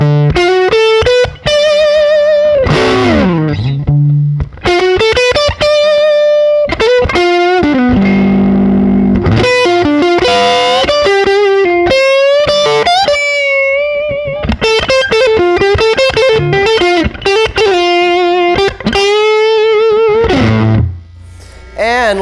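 Electric guitar with original PAF pickups in the middle pickup position, played with an effected, distorted tone: melodic lead lines and chordal passages run continuously and loud, ending with a brief low strum.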